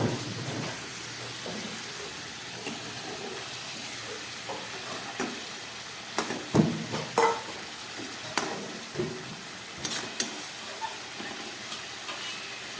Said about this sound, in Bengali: ঝোলটা ফুটে উঠেছে। এবার খুব আস্তে আস্তে আমি বেলে মাছের টুকরোগুলোকে ওপরে দিয়ে দিচ্ছি